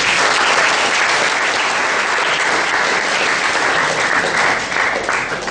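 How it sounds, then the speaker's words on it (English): An audience at a speaking club meeting gives a round of applause for a speaker, full and even clapping from many people, loud and continuous from start to finish. "So for this I would like you to just give her a round of applause for this."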